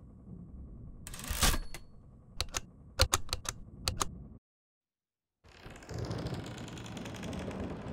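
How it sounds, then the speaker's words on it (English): An old typewriter in the video game Layers of Fear clacks out a burst of sharp keystrokes with a carriage jolt, then falls silent before low, rumbling game ambience returns. "crack the old knuckles and get the typing"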